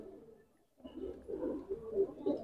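Pigeons cooing inside a loft, several soft, low rounded coos repeating after a brief quiet moment, close by and fairly faint.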